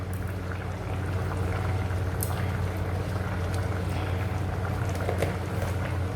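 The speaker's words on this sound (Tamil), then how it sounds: "போட்டு நல்லா கொதி வருது பாருங்கள்." Rice and lentil mixture for Kongu-style arisi paruppu saadham boiling in a pot, a steady low bubbling rumble with faint popping, continuous and fairly close throughout.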